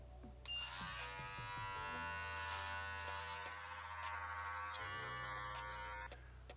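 Electric beard trimmer cutting through a beard, a close, steady high-pitched motor buzz with a low hum that shifts slightly in pitch as the blades move, starting and stopping cleanly, no talking.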